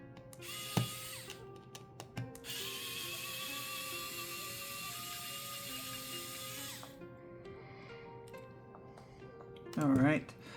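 A magnetic electric screwdriver runs steadily for about four seconds with a high whine, after short bursts and clicks, while people talk in the background during disassembly of a Nintendo Switch Lite.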